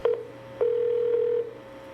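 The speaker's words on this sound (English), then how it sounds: "Some dialing." Telephone keypad tones: a couple of short beeps followed by one long steady tone, clean and close with no voices over them.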